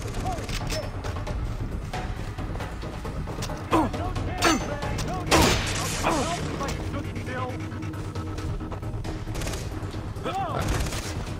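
Gunfire in the shooter Far Cry 3, with scattered shots and bursts rising over a dense, busy game soundscape, a few sharper reports standing out midway, while someone talks over the action.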